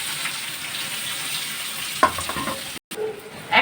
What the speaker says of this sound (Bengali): তেজপাতা গরম মশলার ফোড়ন দিয়ে এবার পেঁয়াজগুলো ভাজবো